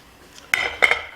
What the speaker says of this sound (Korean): 그래서 냄비 뚜껑을 덮어 놓으셔도 괜찮습니다